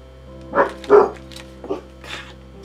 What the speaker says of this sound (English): Here, making noise outside. Didn't think about the dogs.